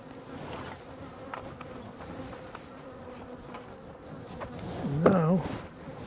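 Honeybees buzz steadily around an open hive being fed over winter, a continuous insect drone with a louder close pass near the end, no talking.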